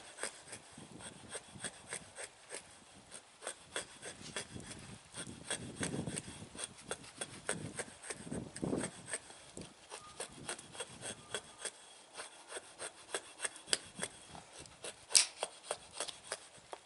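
An axe blade shaves feather sticks from tulip poplar wood in a series of close, dry scraping strokes with brief pauses between them, no talk.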